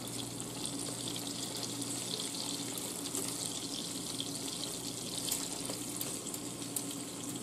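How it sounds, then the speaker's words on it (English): Skinned chicken legs for brown stewed chicken sizzle in a hot pot, a steady, close hiss that holds evenly throughout with no voices over it. "Y'all hear the sizzle?"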